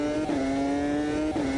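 A high-pitched V10 engine of a Renault R25 Formula One car in the game Automobilista 2 screams steadily at near-constant pitch, with two brief dips as it shifts gears, loud and close.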